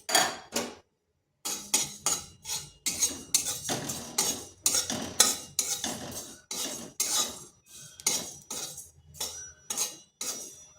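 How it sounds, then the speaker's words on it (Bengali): Panch phoron spices dry-roasting in a dry pan, heard as a run of sharp, close metallic scrapes and clinks in an irregular rhythm, with one short pause near the start and no talking. "প্রথমে আমি শুকনো খোলায় পাঁচফোড়নগুলোকে ভেজে নিচ্ছি।"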